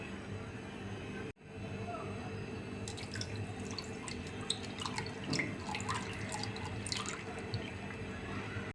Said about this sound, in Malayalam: നേരത്തെ തയ്യാറാക്കി വെച്ച പുഡിംഗ് ട്രേയിലേക്ക് പാലിൻ്റെ മിക്സ് ഒന്ന് അരിച്ചൊഴിക്കാം